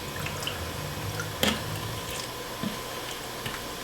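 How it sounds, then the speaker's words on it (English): A 1-inch paint brush is washed in odorless paint thinner, soft wet swishing and a few small drips and squishes against a faint steady background hiss, close and quiet with no talking. "we're just gonna wash the brush here"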